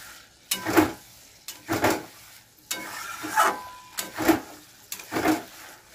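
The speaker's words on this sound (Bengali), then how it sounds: "কাজু বাটা আর পোস্ত বাটাটা দিয়ে দেবো। এটা দিয়ে একটু কষাবো।" Spices fry with a cashew and poppy seed paste in a pan. A spoon scrapes through it in about six regular strokes over a soft, low sizzle, heard up close.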